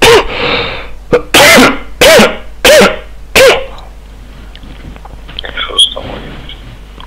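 A man coughs several times in quick harsh bursts, loud and close, after which quieter room sounds and faint rustling follow.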